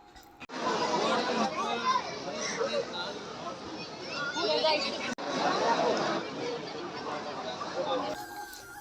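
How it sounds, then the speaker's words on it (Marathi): At Ramdara temple, a dense crowd of devotees chatters in a continuous close babble of overlapping voices, with brief pauses. "बरेच भाविकांनी येथे दर्शनासाठी लाईन लावली होती।"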